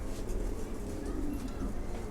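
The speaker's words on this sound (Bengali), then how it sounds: "কবুতরগুলো দেখুন আপনারা, খুবই ভালো কবুতর।" Pigeons in a loft coo softly and continuously, blended into a dense, rumbling background.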